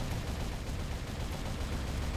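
Sustained gunfire from the video game Robocop: Rogue City, a dense, continuous barrage of rapid shots filling the whole stretch at a steady loud level with no pauses.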